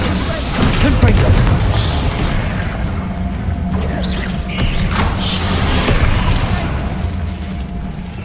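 The Confringo blast spell exploding in Hogwarts Legacy, loud booming bursts with crackling impacts over a dense layer of game sound and spoken incantations.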